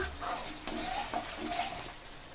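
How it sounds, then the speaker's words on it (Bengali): Masala paste stir-fried in oil for Bengali doi potol, a steady close sizzle with scraping stirs and a few soft knocks of a utensil against the pan, no voices. "মশলাটা প্রায় কষানো হয়ে এসছে আমি আর একটু কষিয়ে নেব"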